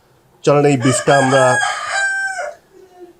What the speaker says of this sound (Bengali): মোরগের ডাক শুনছেন, একদম সকালে গ্রামীণ পরিবেশ